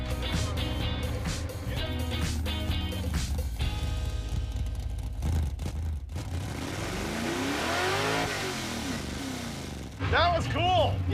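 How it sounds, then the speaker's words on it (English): 1956 Chevy doing a burnout to test wheel hop, a loud revving engine with tire noise and rising and falling pitch sweeps, people talking over it. "I liked your burnout."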